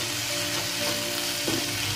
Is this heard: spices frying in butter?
yes